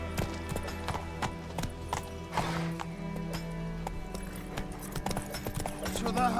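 Horse hooves clip-clop at a steady riding pace in The Witcher 3 game, close and rhythmic, with game ambience and a voice talking over the hoofbeats.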